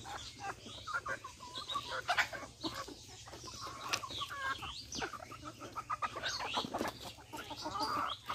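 A flock of free-range desi chickens on a small farm clucks steadily while pecking at cabbage, with busy overlapping clucks and murmurs close by over a low background hum.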